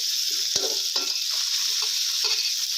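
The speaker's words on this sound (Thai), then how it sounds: "และหอมแดงลงไป เจียวไปผัดให้หอมนะครับ" Shallots sizzle steadily in hot oil in a wok while being stir-fried for Thai eggplant with minced pork, with a few spatula scrapes and stirs punctuating the continuous close hiss.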